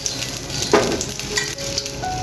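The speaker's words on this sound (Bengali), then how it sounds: "এভাবে আমি সব মাছগুলো ভেজে নেব" Fish fry in oil in a pan with a steady, close sizzle, and a brief louder crackle and the sound of stirring come partway through.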